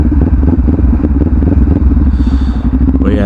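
Kawasaki Ninja 400 motorcycle fitted with a Hindle exhaust, ridden on the road with new tires: a loud, steady, rumbling engine note right up close, with a rising whine near the end and no talk over it.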